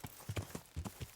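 Horse hooves clip-clopping at a steady walking rhythm over pebbles in the medieval game Kingdom Come: Deliverance, about five close, moderately loud footfalls with no voices.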